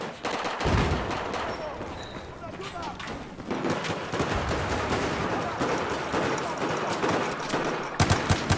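Pistol fire in Battlefield 4's Metro map during a pistols-and-knife-only match: sharp, repeated gunshots in uneven bursts, with more gunfire and explosions in the background and a voice talking over the action.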